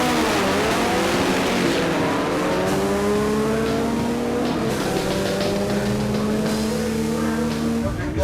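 A nitrous drag racing car accelerates flat out, its loud engine note rising and falling with each shift in a close, continuous roar.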